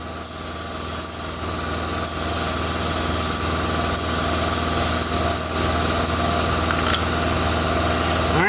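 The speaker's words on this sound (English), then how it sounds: "put 24 pounds of pressure in the other side" Air compressor hose pumping air into a flat riding mower tire, a loud, steady hiss with engine-like hum running continuously throughout.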